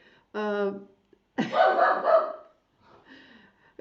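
A dog at a service gives one short bark or yelp, then a longer rough vocal burst, followed by a faint sound, close and fairly loud over a quiet background.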